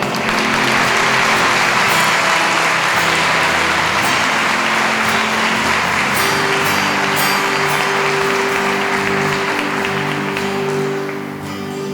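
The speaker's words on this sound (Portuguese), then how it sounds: "Pode dar um abraço no irmão que está perto, pode aplaudir também." A church congregation claps loudly and continuously as a dense roar of applause, with a steady low tone running underneath and a few sharper claps standing out, before fading slightly at the end.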